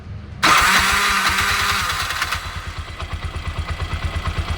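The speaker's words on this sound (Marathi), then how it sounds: "बंद करून चालू करा." A CNG auto rickshaw engine cranks with a loud whirring starter, catches, and settles into a steady, rhythmic putter of idling, close by.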